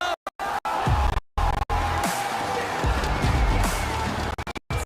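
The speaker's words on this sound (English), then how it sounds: "Check out this crowd, just absolutely wild." Loud roar of a packed arena crowd at the Clash Royale CRL World Finals at DreamHack Atlanta, with sustained cheering and whooping broken by a few brief sharp dropouts.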